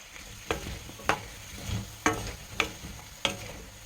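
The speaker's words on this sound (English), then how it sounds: "We'll fry it a little. We'll give the potatoes. Then I will add the turmeric powder and mix." Potatoes sizzle in hot mustard oil with turmeric, a steady close frying hiss broken about every half second by a spatula scraping and stirring the pan, with no voices.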